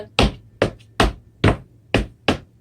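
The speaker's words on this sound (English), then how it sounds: "that's the sound that you're trying to achieve for the zapateado de tres" Six sharp percussive zapateado de tres footwork stomps from Sinaloa folk dance on a hard floor, grouped in quick uneven pairs, loud and close with no talking.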